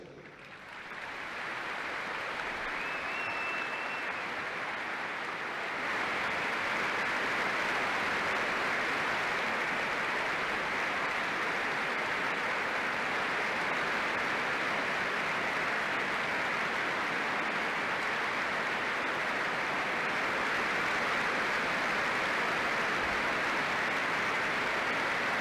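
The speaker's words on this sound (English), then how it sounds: "We will have a minute's applause for the former England manager Sven Eriksson" A football stadium crowd at a Plymouth Argyle v Stoke City Championship match holds a minute's applause for former England manager Sven Eriksson, with sustained, dense clapping that swells after a few seconds and stays loud and steady throughout.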